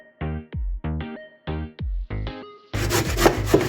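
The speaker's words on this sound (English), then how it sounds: "Box grater, I'm grating it on this side." Peeled pumpkin is rasped on the side of a box grater, a close, rough scraping burst for about a second near the end, preceded by several short, tonal, honk-like sounds.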